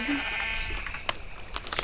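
Sheep bleats from the Minecraft video game, a drawn-out nasal bleat near the start followed by game clicks and chatter-like noises, with no talking over it.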